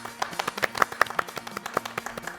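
Hand claps ring out during a Cinco de Mayo comedy talk show, a quick string of sharp, close, distinct claps with a loose rhythm, heard alone without talk.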